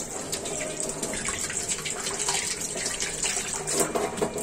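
Tap water runs steadily into a sink while tilapia is washed, a continuous close gushing splash with small bursts of handling, no voices.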